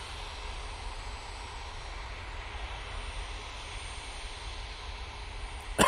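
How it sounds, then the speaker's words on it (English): An EasyJet jet departs for Lisbon with a steady, moderate engine rumble that stays even throughout, then a brief sharp noise at the very end. "departing now, we have that EasyJet going off to Lisbon"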